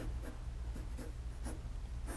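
A pencil scratches steadily across paper in short repeated strokes, shading and darkening the edges of a drawing of flowers in a 3-D box, close and fairly quiet with no talking.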